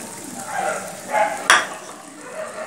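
Pointed gourd simmering in milk in a pan is stirred, with soft swishes and scrapes of a spoon over a gentle bubbling sizzle and one sharp clink against the pan.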